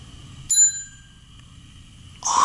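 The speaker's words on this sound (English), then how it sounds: "One of my favorite vintage 1950s Otis elevator bell." A vintage 1950s Otis elevator bell gives a single clear, bright chime that rings on and slowly fades in a quiet room, followed by a brief louder noise at the end.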